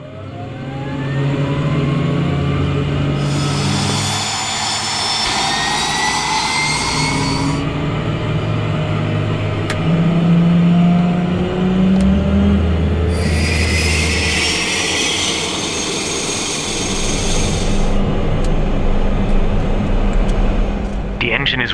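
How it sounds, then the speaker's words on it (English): A Cessna Caravan floatplane's turboprop engine runs steadily during startup, a continuous drone overlaid by recurring high-pitched whines, while voices talk over it at times. "The engine is running"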